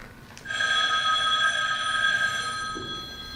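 An old telephone bell rings in one sustained metallic trill lasting a few seconds, fairly close, with no talk over it.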